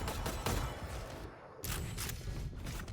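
Rapid gunfire rattles through a Valorant esports match, dense overlapping shots in quick bursts with a brief gap in the middle, loud and continuous.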